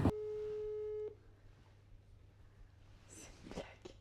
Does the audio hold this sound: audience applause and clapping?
no